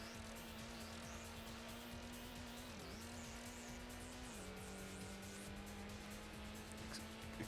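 Toyota Supra engine in Gran Turismo holding a steady drone with one brief dip and a slight pitch drop, running continuously and fairly quiet with no talk.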